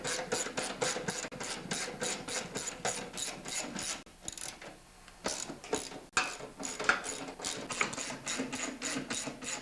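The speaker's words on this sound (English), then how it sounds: "use your wrench." Rapid ratchet wrench clicking while tightening bolts on an old MTD snowblower, a steady close run of sharp pawl clicks with a brief pause midway before resuming.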